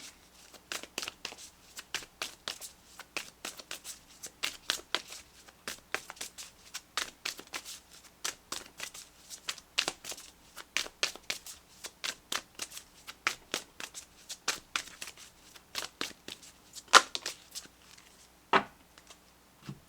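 Tarot guidance cards being shuffled by hand, a long run of quick papery riffles and flicks in irregular bursts, close and fairly quiet, with no voice.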